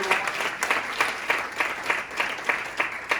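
Applause from an audience at a school board education event welcoming new educators, a dense steady patter of many hands with regular louder swells, filling the whole stretch with no talking.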